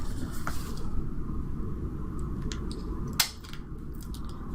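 Scissors trimming card paper while making a watercolor embossed greeting card, quiet snips over a low background hum with one sharper cut near the end.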